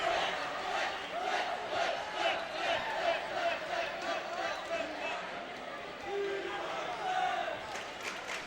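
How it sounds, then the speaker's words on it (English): A Lakewood student section cheers at a 2005 boys' basketball game, rhythmic chanting and shouting pulsing steadily throughout, with a commentator talking over it. "Lakewood crowd seems to cheer a lot"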